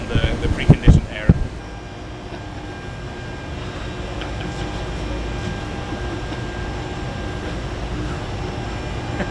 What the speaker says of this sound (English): the best way to do it is just next to the air inlet from the preconditioned air